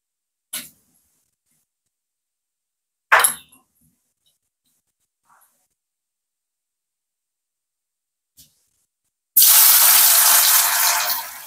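Paneer hits hot white oil in a wok, seasoned with a little salt and Kashmiri chili. A few sharp isolated clicks give way to a sudden, loud, steady sizzle that runs to the end.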